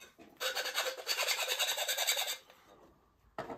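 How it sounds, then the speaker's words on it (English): A half-round file rasps against the inner edge of a metal pipe to clean off a lip, giving a run of quick, close scraping strokes, then a pause and one more short stroke. "I do that with a half round file. And I just go in and work it, just cleaning up the lip"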